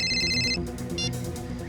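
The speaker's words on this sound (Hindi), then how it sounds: "ये दिनेश क्यों फोन कर रहा है मुझे?" A phone ringtone for an incoming call plays as a bright, repeating electronic melody with a brief pause, over faint background hum.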